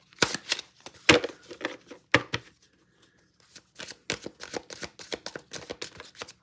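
A large deck of tarot cards is shuffled close up in irregular bursts of crisp riffling and slapping, with a brief pause midway before the shuffling resumes in quicker, choppier flurries.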